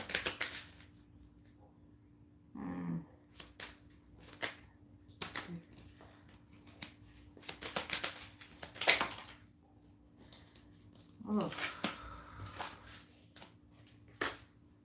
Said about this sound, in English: These cards are falling on the floor.